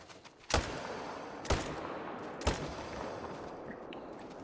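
Three sharp, separate rifle shots about a second apart, fired while hunting a crocodile in a video game, each loud and abrupt with a short decaying tail over a quiet outdoor ambience.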